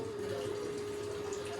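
A washing machine drains its water before the spin cycle, giving a steady, faint hum with a constant pump tone and soft flowing water.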